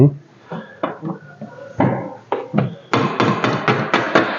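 Repeated tapping on a dented metal car body panel gives sharp knocks. It starts sparse and builds to a quicker run of loud, clanky taps, close by.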